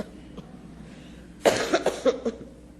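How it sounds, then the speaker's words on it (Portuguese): A woman gives several short coughs in quick succession, close and clear, after a quiet stretch of faint room tone. "Pausa para uma tossidinha."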